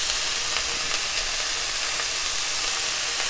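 Garlic and chopped vegetables sizzle in a hot pan while cooking for osso buco, a steady, close, continuous frying hiss with no pauses or talking.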